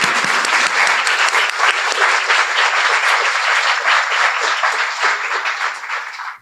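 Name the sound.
audience applause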